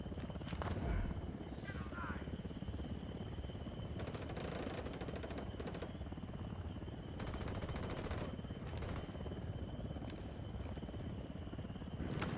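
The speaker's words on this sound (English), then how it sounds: "Chopper, hit the dirt." An enemy helicopter in Ghost Recon Wildlands, a steady rotor drone throughout with repeated bursts of gunfire over it and occasional voices.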